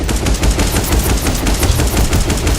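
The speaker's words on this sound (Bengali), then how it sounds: "একে দিছে, AK-47।" Automatic AK-47 fire in the mobile game MadOut 2: a loud, continuous stream of rapid, evenly spaced shots with no pauses, heard on its own.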